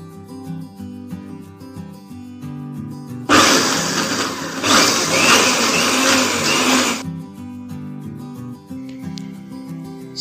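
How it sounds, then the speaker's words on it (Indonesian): An electric blender grinds corn kernels without added water, a loud dense whir of about four seconds over background music, starting and stopping abruptly. "Setelah biji jagung selesai kita haluskan"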